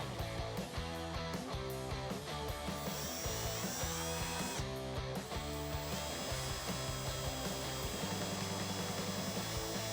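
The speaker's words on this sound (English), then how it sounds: "We're just going to drill into this." A power drill whirs continuously at close range, drilling into a Dodge Charger rear spoiler wing, its motor pitch shifting slightly as it bites into material, with a steady, loud grinding tone throughout.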